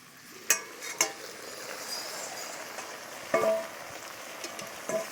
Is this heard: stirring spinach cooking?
yes